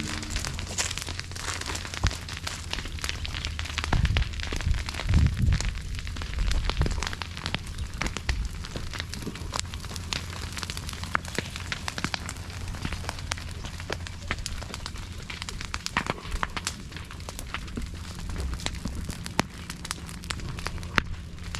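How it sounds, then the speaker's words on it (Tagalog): Large outdoor fire burning with dense, irregular crackling and popping bursts and a steady low roar, close and loud, with occasional heavier thumps. "Yan o, may nasunog na naman."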